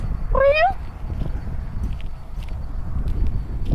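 A single short cat meow rises near the start over steady outdoor rumble and faint shuffling, then only background noise continues.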